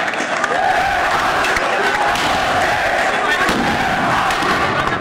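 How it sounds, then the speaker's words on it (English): A dense, roaring street crowd at a protest in Cairo chants calling for Mubarak to leave, a loud, continuous wall of massed voices with scattered thuds and shouts throughout. "A wall of chanting from the street."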